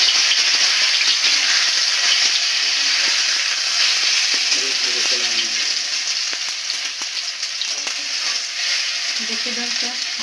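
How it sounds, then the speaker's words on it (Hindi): Taro leaf curry roasts in a pan with a continuous close sizzle, overlaid by scraping stirring strokes and a few faint clinks, no talking. "इसे इस तरह से चलाना है, इस तरह से, और हल्का रोस्ट होने देना है"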